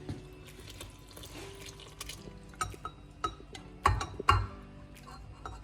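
Yeast dissolved in hot water is poured over a pizza dough mixture in a bowl. Soft splashing and trickling come with scattered clinks and knocks, fairly close and quiet.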